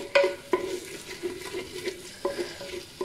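A spoonful of ginger, garlic and green chili paste fries in a pan for a Lahori mutton paya dish, with soft sizzling broken by several sharp scraping stirs of a spoon.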